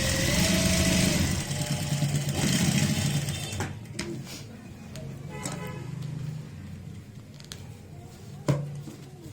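A sewing machine runs steady stitching across a saree with a petticoat attached underneath, a close whirring hum that carries on for several seconds, then a quieter stretch with light clicks and handling sounds.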